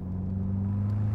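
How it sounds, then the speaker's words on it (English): A turbocharged KA24 engine in a Kouki S14 Nissan 240SX, making around 400 horsepower, rumbles through a full 3-inch exhaust as a steady, deep, close drone with no breaks. "It's got a full 3-inch exhaust, lots of flow"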